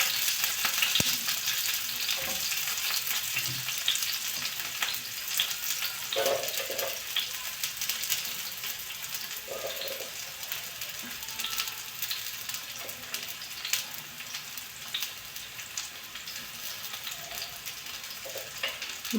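Onion frying in a pan for a rice dish with tur beans, a continuous, even sizzle and crackle held close at steady loudness, with occasional stirring scrapes and no talk.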